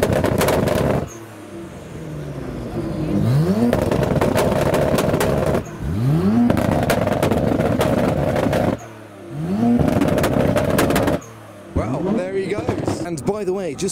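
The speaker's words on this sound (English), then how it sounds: "It's the rev battle now, 33 versus 35." A Nissan Skyline GTR R33 and R35 trade revs at a Japanese car show, loud repeated engine blips that rise and fall in bursts with brief gaps between them, heard close with a crowd and talk around.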